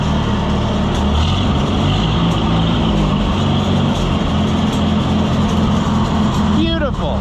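An Oliver 66 tractor engine that has sat unused and needs carburetor work runs steadily nearby with a low rumble throughout, and a brief squeal near the end.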